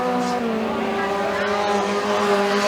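Mini stock race cars roar around the track at Freedom Motorsports Park during a heat, a dense, loud, continuous blend of revving engines with rising and falling pitch as the cars sweep through a turn.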